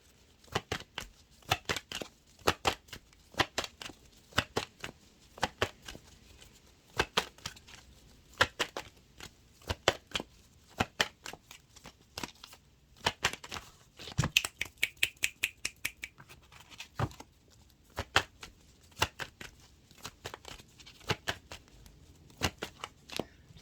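Tarot cards from a numerology deck being shuffled, with dense bursts of crisp riffling clicks coming in quick irregular runs, close and alone with no talking.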